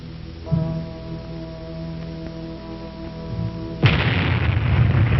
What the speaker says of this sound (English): The moments tick away as we await the bomb and the fireball.